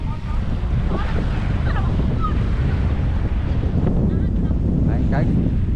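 Strong wind buffets the microphone with a constant low roar, while faint voices come and go underneath.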